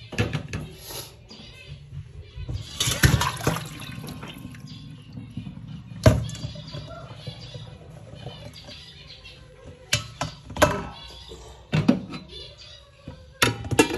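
Water drains and drips from soaked soybeans, with intermittent splashes, trickles and gurgles close by. A few louder pours stand out against a quiet background.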